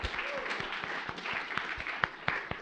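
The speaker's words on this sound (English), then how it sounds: "Clap a little longer for them." An audience at a high school science bowl tournament at MIT applauds, a dense steady patter of many hands clapping with a few sharper close claps.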